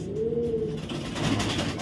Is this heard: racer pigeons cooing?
yes